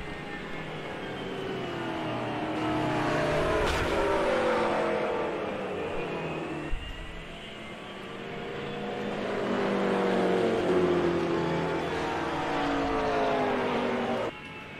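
GT3 race cars, including McLarens, roar around Watkins Glen in a racing video game, engines droning steadily with rising and falling revs as they pass, loud and continuous with no talking.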